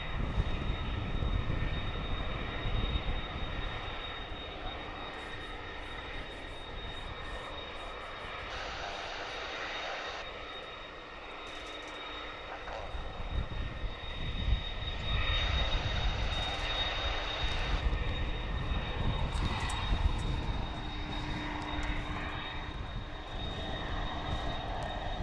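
A fixed-wing airliner taxis on the ground at Dallas/Fort Worth International Airport, its engines giving a steady, loud, continuous roar and whine that swells and eases over about 25 seconds, with no talking.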